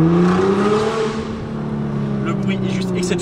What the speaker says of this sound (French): Le bruit est juste exceptionnel de cette voiture tout de même